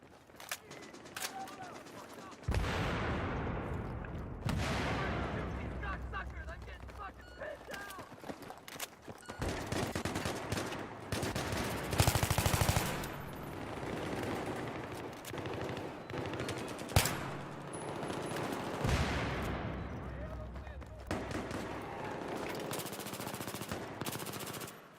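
Bursts of machine gun fire in a Battlefield 3 firefight on PS3, loud rapid volleys recurring across the scene amid other gunshots, with voices speaking over the action.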